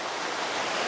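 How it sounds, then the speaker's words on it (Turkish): A waterfall and stream at Tepealan Asmaköprü Şelalesi in Korgan pour strongly in a dense, steady broadband rush, close and loud with no voices. "Şu güzelliğe bakın, gerçekten de kendi çapında gürül gürül akıyor."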